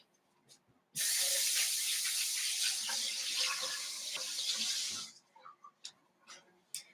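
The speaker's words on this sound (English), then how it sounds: "let me just wash my hands real quick" Hands being washed under a running kitchen tap, a loud steady gush of water for about four seconds, then a few small clicks and handling sounds as it shuts off.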